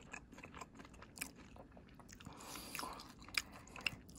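Close, crisp bites and chewing on a crunchy caramel-candy-coated apple, with sharp crackling crunches scattered irregularly over about four seconds and no talking.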